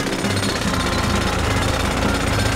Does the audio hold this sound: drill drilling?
yes